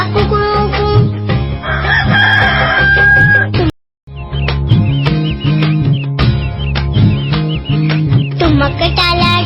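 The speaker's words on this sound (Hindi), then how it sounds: "मुर्गा बोला कुकड़ू कू" A rooster's cock-a-doodle-doo rises from a sung Urdu/Hindi children's nursery rhyme, blended into a bright, busy music track that plays loudly throughout, with a brief gap of silence near the middle.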